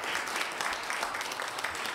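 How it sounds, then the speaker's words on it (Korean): Steady applause from an audience at a university scholarship certificate ceremony, dense continuous clapping filling the room at moderate level with no break. "박수 한번 부탁드리겠습니다"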